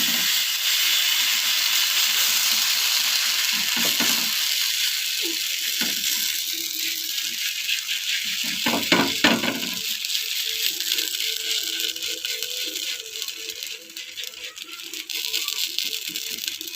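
Dosa-style adai batter spread across a hot, oiled griddle sizzles with a steady, bright hiss that holds for the whole stretch, with a few soft scrapes and taps midway and no talking.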